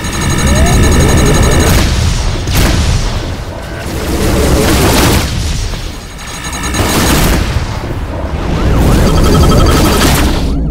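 Missile explosions and weapon fire in the space combat game Rebel Galaxy Outlaw: loud, dense rumbling booms in repeated waves, with bursts of crackling blasts under synthetic effects.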